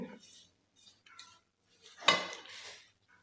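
A spoon scrapes and clinks against a pot as fried cashews, almonds and raisins are stirred into a ragi modak mixture, a few quiet scattered contacts with one sharper clatter midway.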